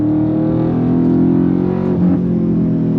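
A Dodge Charger Scat Pack V8 accelerating hard, a loud steady engine roar rising in pitch with a brief dip as it shifts, heard close from inside the car with no talk.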